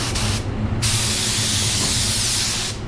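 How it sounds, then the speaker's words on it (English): Steady, loud hiss of a 3M Performance spray gun spraying at 20 psi, continuous for nearly three seconds with a brief dip near the start, close and alone with no talking. "I'm gonna see how this sprays at 20."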